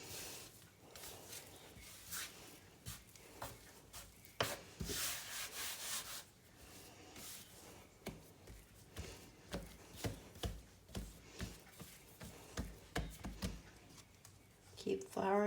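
Floured cinnamon roll dough being kneaded by hand on a work surface, giving soft rubbing, slapping thumps in a steady rhythm that grows more regular toward the end. The sound is faint and close.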